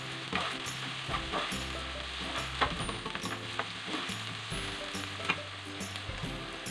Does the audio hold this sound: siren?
no